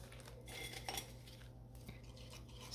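Opaque white pigment stirred into resin in a small mixing cup, giving a steady run of soft scraping and light clinks against the container, close and quiet, with no talk.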